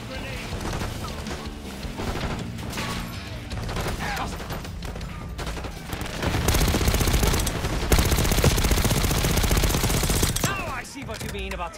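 Minigun fire in Call of Duty: Black Ops 6, long continuous high-rate roaring bursts amid other gunfire and explosions, loud and close, with voices in the game during the battle.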